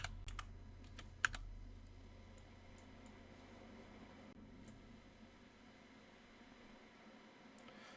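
Computer keyboard typing on a desk, a few sharp clicks near the start and scattered light taps after, quiet and close over a soft background hiss, with nobody speaking.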